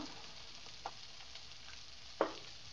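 Goat liver sizzles steadily in a pan with ground garam masala, a soft, even frying hiss heard close, broken by two small spatters or stir clicks.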